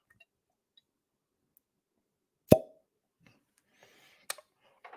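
A natural cork, not a synthetic stopper, pops out of a liquor bottle with one sharp close plop in near silence, then a few faint clicks and light handling sounds.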